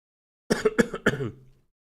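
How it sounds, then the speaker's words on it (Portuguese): A man recovering from Covid coughs and clears his throat in three quick harsh bursts, close and alone, followed by a brief trailing rasp. "Desculpa a tosse, pessoal."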